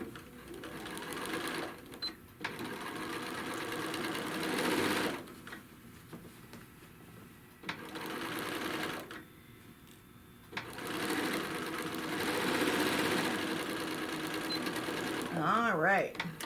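A sewing machine stitches a crochet bag panel in steady bursts of loud motor whir, pausing briefly between runs, with a voice speaking over parts of it.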